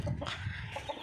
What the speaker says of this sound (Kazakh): Так, мына жақта балапандарым.